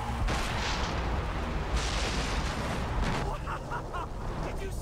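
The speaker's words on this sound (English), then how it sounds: "Did you see that explosion?" A continuous, dense roar of explosion and gunfire noise from the Far Cry 3 shooter game fills the whole stretch and then eases slightly near the end.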